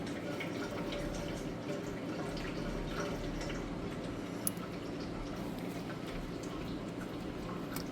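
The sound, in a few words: engine oil draining from Bentley W12 drain plug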